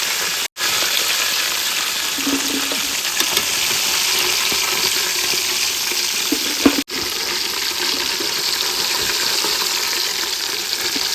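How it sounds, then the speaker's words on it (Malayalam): Pieces of KFC-style fried chicken crackle and sizzle steadily in hot oil, a dense, even bubbling hiss that runs throughout with two brief dropouts and a few soft clinks from a utensil, no voices. "അപ്പോൾ നമ്മുടെ ചിക്കൻ നല്ലോണം മൂത്ത് വന്നിട്ടുണ്ട്"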